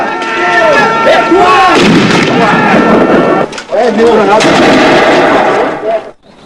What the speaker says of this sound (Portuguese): os invasores, que revidaram com bombas e tiros